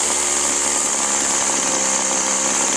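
A weed eater string trimmer's small two-stroke engine idles steadily and loudly with a constant buzzing drone as its idle screw is turned down, no voices over it.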